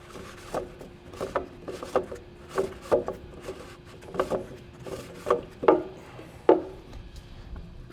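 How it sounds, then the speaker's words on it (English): A Baldwin fuel/water separator filter is unscrewed by hand from its header, giving a series of close, faint, irregular creaks and scraping twists, each turn a short gritty squeak. "we're going to unscrew the filter off the header."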